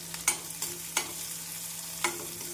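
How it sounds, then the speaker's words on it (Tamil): Steady sizzling of chopped onions frying in hot oil with mustard seeds and cumin, broken by a few sharp scrapes of a spoon stirring the pan. "கடுகு, ஜீரகம் பொரியவும் நறுக்கிய வெங்காயத்தை சேர்த்து விடலாம்."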